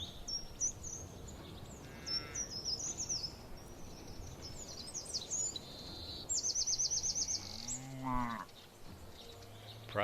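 Cows in the Land of the Vikings village-building game, several loud moos sounding close together over a bed of chirping birdsong and ambient farm noise.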